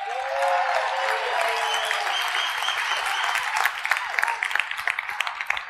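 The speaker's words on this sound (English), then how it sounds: "Please give Garth a round of applause." An audience at a wealth-building seminar breaks into a steady, full round of applause, dense and continuous, thinning into scattered claps toward the end.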